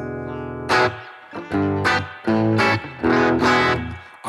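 An electric guitar through a BOSS GT-1000 spring reverb plays a held chord, then several short strummed chords in an uneven rhythm, each with a springy reverberant tail. No talking.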